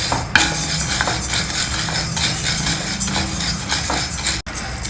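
Half a cup of chana dal dry roasting in a pan, with a steady scraping and rattling of a spoon stirring the lentils, continuous and close, with no talking.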